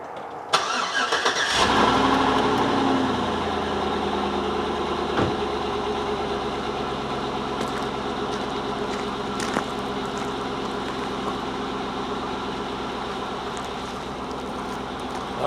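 A 2005 Chevy Suburban with a 5.3L V8 cranks briefly and catches, then settles into a steady, even idle that runs on close by and alone.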